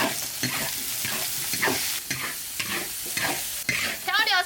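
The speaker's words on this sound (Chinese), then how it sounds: "爆香下肥肠，把水分给它炒干，放姜蒜、香料，这豆瓣酱" Pork intestines stir-fried in a hot wok with ginger, garlic, spices, chili bean paste and hotpot base, giving a loud continuous sizzle broken by repeated scraping strokes of the spatula, close and without voices.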